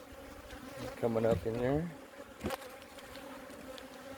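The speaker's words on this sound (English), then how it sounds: "these are some really good sized bees" Steady low buzzing of honey bees runs throughout, with a brief spoken phrase and a short knock partway through.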